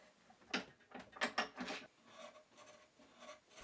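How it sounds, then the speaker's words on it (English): A chisel pares away a protruding wooden dowel on a coaster base held upside down in a vise, making faint, close scraping and rasping strokes in an uneven rhythm of short cuts. "I then slice off the protruding dowel using a chisel, making skewing motions across its surface"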